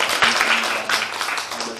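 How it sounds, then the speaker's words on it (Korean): A church congregation applauds outdoors to welcome newly arrived international students, a steady, fairly close burst of many hands clapping that lasts under two seconds. "우리 환영의 박수 하겠습니다."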